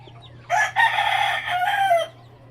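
A red junglefowl rooster crows once, close and loud, its call broken into a short opening note and a long sustained cry of about one and a half seconds, with a faint steady hum behind it.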